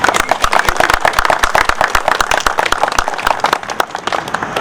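Applause at a 9/11 remembrance ceremony, a crowd clapping steadily with sharp individual claps close by, sustained throughout without talk.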